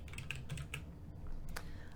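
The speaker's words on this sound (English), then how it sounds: "I'll just type content here." Keys on a computer keyboard clatter in short bursts of quick taps, close and fairly quiet, over a steady low room hum, with a brief pause near the middle before a few more strokes.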